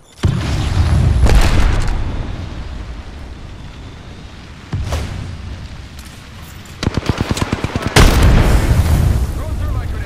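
A grenade explodes in the video game Apex Legends: a heavy, booming blast opens loud, then several more deep thuds and a rapid burst of gunfire-like cracks follow close by.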